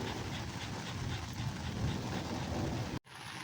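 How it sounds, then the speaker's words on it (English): A doozy of a thunderstorm at a campsite, with dense, steady rain roaring close under an awning over a low rumbling undertone, briefly cut off near the end before resuming. "it's a doozy of a thunderstorm."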